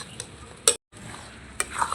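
A spoon stirs a thickening mango barfi mixture with ghee in a wok, giving soft scraping and a few sharp clinks against the metal, with a brief gap of silence midway.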